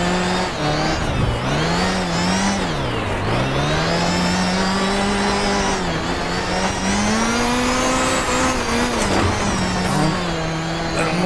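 A Group B Lancia Delta S4 rally car climbs the Transfagarasan mountain road, its engine loud and close, revving up and down steadily through gear changes and bends with no break in the roar.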